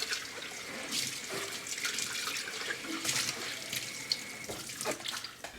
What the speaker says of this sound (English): Then you want to rinse your jar.